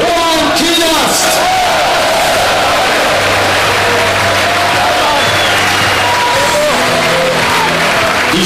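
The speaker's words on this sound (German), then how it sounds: "Herzlichen Applaus für Roman Kinast!" A large crowd at an Austrian football club's championship celebration applauds and cheers loudly for a player, with whoops and shouts over an announcer's amplified voice booming through the stadium.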